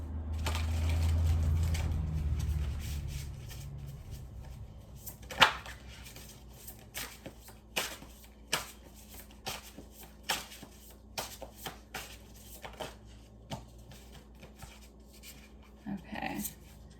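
Priestess of Light oracle cards are shuffled by hand in a quiet room, with a low rumble at first, then a run of crisp, separate riffles and taps.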